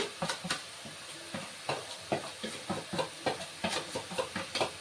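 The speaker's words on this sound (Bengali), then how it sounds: "এখানে হলুদ গুঁড়ো লঙ্কা গুঁড়ো জিরে গুঁড়ো এগুলো আমি দিয়ে দিচ্ছি" Turmeric, chili and cumin powders go into a hot pan of frying food for a home-cooked lunch, with steady sizzling and a rapid rhythm of spatula strokes scraping and tapping the pan, close and fairly loud throughout.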